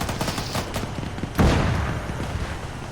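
Rapid machine gun fire in a war video game, crackling bursts with a heavier blast partway through, dense and loud throughout the short stretch.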